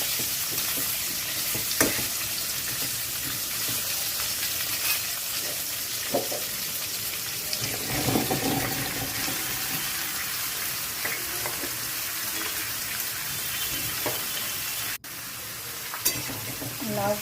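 Bottle gourd frying in a pan, a continuous loud sizzle with intermittent stirring scrapes throughout, close and without speech.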